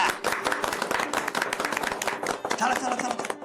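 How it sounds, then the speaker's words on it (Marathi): People clap at a ribbon-cutting inauguration, a brisk, uneven patter of hand claps that runs for a few seconds with voices mixed in underneath. "टाळ्या."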